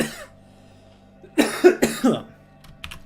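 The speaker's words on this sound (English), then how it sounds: "I'm definitely developing a scratchy throat and a cough right now" A few short, rough coughs in a quick cluster, close and fairly loud, over a low steady background hum.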